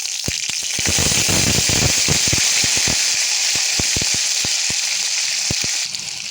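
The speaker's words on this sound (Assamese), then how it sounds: "ইয়াতে দি দিম মই 1 চামুচমান নহৰু, আদা বাটা।" Ginger and garlic paste hits hot oil with a loud, steady sizzle and sharp crackling pops throughout, for a Bengali-style coconut koldil (banana flower) bhaja being cooked.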